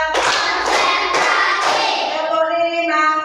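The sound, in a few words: class clapping hands in counted rhythm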